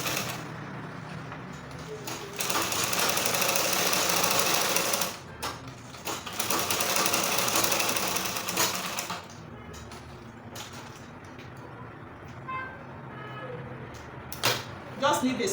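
A sewing machine stitching trouser fabric runs in close, rapid bursts with short pauses between runs, sometimes under a voice talking.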